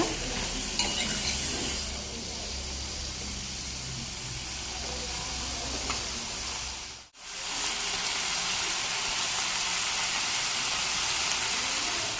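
Brinjal pieces, soaked in salt water, drop into a hot pan for a brinjal and green peas curry, giving a steady sizzle and frying hiss with stirring, broken by a brief pause midway before the sizzling resumes.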